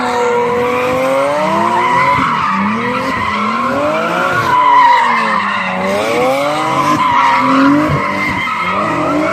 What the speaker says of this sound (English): These two Z's do some donuts in the middle of the street.